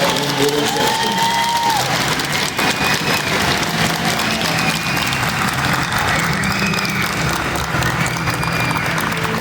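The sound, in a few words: crowd applause and cheering at army graduation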